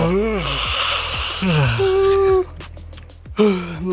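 A person imitates a yawn: drawn-out, wavering vocal moans with gasping intakes of breath, loud and close, ending in a sighing exhale.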